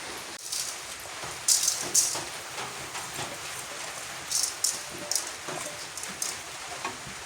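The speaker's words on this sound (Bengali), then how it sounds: "ঠান্ডা ঠান্ডা দিন, হ্যাঁ, বৃষ্টি পড়তেছে" Steady rain falls on a rural village setting as a close, continuous wash of drops, with a few louder splashes or drips standing out now and then, and no talk.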